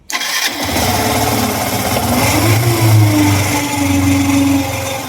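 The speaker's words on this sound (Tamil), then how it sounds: "பார்த்தீங்கன்னா உரசின மாதிரி ஒரு சவுண்டு வருது இது என்ன சவுண்டாக இருக்கும்" A Yamaha V2.0 motorcycle engine cranks and catches, then runs at a steady, loud idle close by, with a persistent rasping, scraping tone riding over the engine note.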